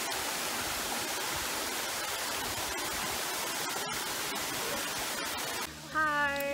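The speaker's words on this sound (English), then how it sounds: "This waterfall is a lot bigger, huh?" A large mountain waterfall roars as a loud, steady broadband rush throughout, with a brief voice and shift in sound near the end.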